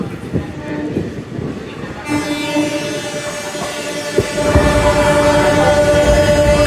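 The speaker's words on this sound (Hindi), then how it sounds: "शेरघाट एक्सप्रेस वर्धमान से निकलते हुए" An Indian express passenger train pulls out of Bardhaman junction in heavy rain, a loud, steady rumble of wheels and carriages with a sustained horn-like tone.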